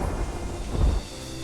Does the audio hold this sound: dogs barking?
no